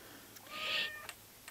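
A Persian cat gives a single drawn-out meow close by in a quiet room, with a few faint ticks before and after it.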